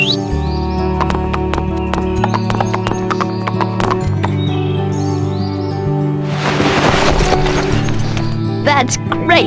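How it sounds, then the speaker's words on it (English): Rhythmic clip-clop of horse hooves with occasional whinnies from Barbie Horse Adventures: Wild Horse Rescue on PlayStation 2, set over a steady looping music bed and bright chirping birds, with a loud whoosh near the end. "press the triangle button to mount your horse and start riding the trails"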